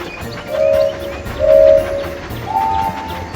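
Cartoonish train chugging along tracks in a kids' video game, with three brief whistle-like tones rising over a steady rolling rumble.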